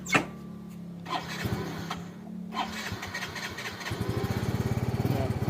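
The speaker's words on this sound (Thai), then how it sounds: "ส่วนรถนี้ก็ยังสตาร์ทติดขับได้อยู่นะครับ" Motorcycle that has crashed into a canal is started up; after a few low sputters and rumbles the engine catches and settles into a fast, steady, close idle putter.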